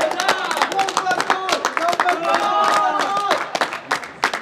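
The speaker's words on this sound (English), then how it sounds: "The crowd's going wild." Local club cricket crowd clapping and cheering after a wicket falls, a burst of close claps and shouts that carries on for several seconds alongside voices.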